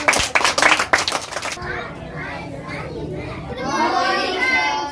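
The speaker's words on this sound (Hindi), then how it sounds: "एक बार जोरदार ताली हो जाए इसके लिए" Schoolchildren in a classroom break into loud, rapid clapping for about a second and a half, and then calm down into scattered chatter and adult speech.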